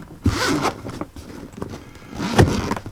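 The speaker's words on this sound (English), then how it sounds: "Nice smooth zippers, and it is a double zipper." Smooth double zippers on a pocket knife organizer case being pulled: two quick, close zip strokes, one near the start and another near the end, with light handling in between.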